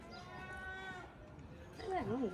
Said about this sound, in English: It's either a cow or a really sick cat.